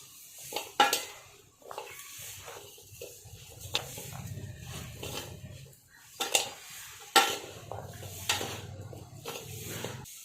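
Spoon scraping and clinking against a bowl as raw mango pickle is stirred, thick with irregular knocks and soft wet mixing sounds, close by.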